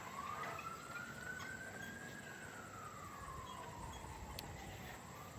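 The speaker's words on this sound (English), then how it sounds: "I'm put off by the sound of all these sirens" A distant emergency siren wails with a slow rising and falling pitch over a faint background hum.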